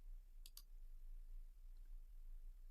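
A computer mouse gives a quick double click early on, crisp and close, then only faint room hum for the rest.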